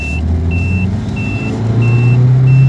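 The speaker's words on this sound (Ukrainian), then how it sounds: "він же ж торохкотить своїм же жуком" A rattling Volkswagen Beetle drives past: a low, rough engine rumble grows steadily louder, and a high beep repeats at regular intervals throughout.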